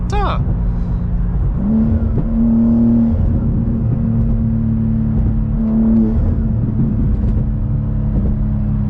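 A BMW M2 G87 accelerates on an open highway, its engine droning loud and steady from inside the cabin with rising pitch through the gears; someone talks over it.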